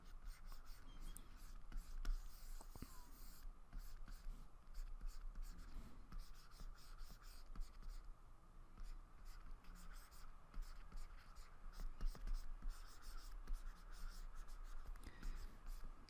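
Marker strokes drawing a stick figure of a hunched-over man on a board, a soft scratchy squeak of pen-on-board scribbles coming in short bursts over quiet room tone, with no talking.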